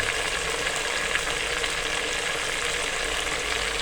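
Masala for aloo matar pulao roasts in a pan, giving a dense, even sizzle that holds steady throughout with no voices over it.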